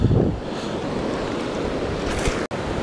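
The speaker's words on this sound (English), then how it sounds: "The river is really raging and pretty high." A high, raging creek in the wild rushes as a steady, loud broadband roar of water, continuous throughout with a brief dropout near the end.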